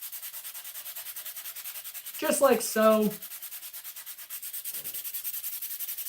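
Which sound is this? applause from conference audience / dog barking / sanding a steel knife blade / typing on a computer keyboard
sanding a steel knife blade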